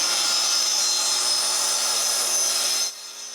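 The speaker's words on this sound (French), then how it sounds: "le reste, lui, il est coupé avec ma scie à ruban" A band saw cuts through a wooden beam in a workshop, a steady loud high-pitched whine and rasp running continuously before dropping off abruptly near the end as the blade exits.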